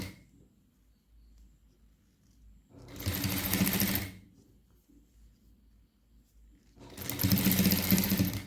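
A sewing machine stitches folded-in cloth on an overcoat in two short bursts of rapid whirring, about a second each, with near-silence between and no talking.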